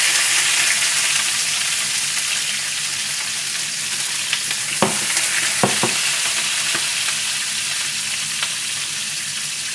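Bok choy stir-frying in a hot pan for yaki udon, a loud, steady hiss of sizzling oil with a few sharp clicks and knocks of a utensil partway through.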